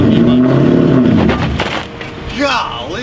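A cheap, older Ford Mustang engine revs loudly and close, its rough rumble rising and falling with a climbing rev near the end, while someone talks over it.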